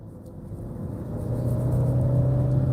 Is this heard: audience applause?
no